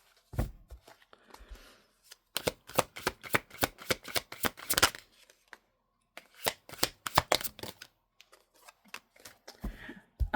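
Tarot cards being shuffled by hand in a quiet room, a close, crisp run of rapid riffling flutters in bursts with brief pauses between them.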